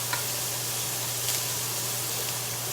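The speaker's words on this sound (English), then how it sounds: "I'm just stir frying a little bit of the onion" Onion stir-frying in an oiled, hot pan gives a steady, close sizzling hiss that holds evenly throughout, with no talking.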